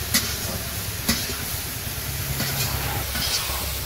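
Vegetables sautéing with spices for a curry in a pan, village-style cooking: a steady close sizzle and hiss with a few sharp scraping stir clicks, no voices.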